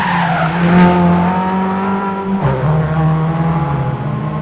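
A race car corners hard during a one-on-one race, its loud engine droning at a high steady pitch that dips and shifts around the middle, with a rough tire-squeal edge, close and continuous with no talking.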